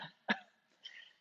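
A person coughing during a yoga exercise for mothers, one short, close cough with a softer throat-clearing sound just after, and no talking.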